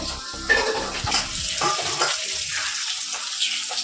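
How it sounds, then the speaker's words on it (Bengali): Fish frying in a pan in a home kitchen gives a steady, close hissing sizzle with a few sharper crackles, and no voices over it. "ওদিকে মাছ ভাজা করে শুরু করে দিয়েছে"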